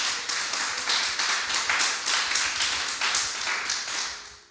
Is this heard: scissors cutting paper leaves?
no